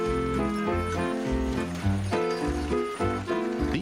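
A farm horse clip-clops in steady, close hoof beats with an occasional whinny, mixed with a bright musical backdrop; no talk.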